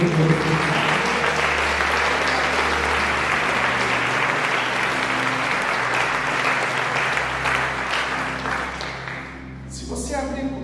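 Sustained applause from a church congregation, a dense steady roar of many hands that carries on for about ten seconds before fading, with a brief burst of clapping returning at the end.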